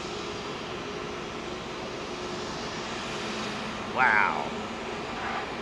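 A low, heavy airliner departing Heathrow's runway 27L, a steady broad jet roar across the whole clip, with a man's brief exclamation near the end.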